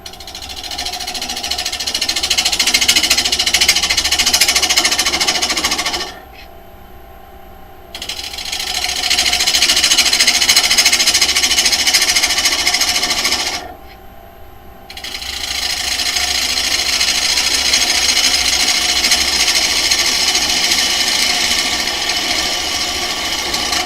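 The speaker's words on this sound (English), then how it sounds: "I need to sharpen this chisel." A small chisel is sharpened in a woodturning workshop, making loud, continuous scraping and grinding in three long stretches separated by two brief pauses.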